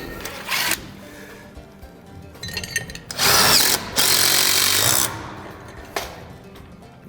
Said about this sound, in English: You're going to take your nut driver and you're going to swap to the provided 5/16 nut driver.